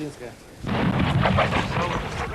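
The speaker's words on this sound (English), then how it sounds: "Russian guns are pounding the city with growing ferocity and frustration." Russian artillery guns shelling the Chechen capital during the war: a deep, continuous rumble of heavy booms rolls in after a quieter start and stays loud and distant-sounding throughout.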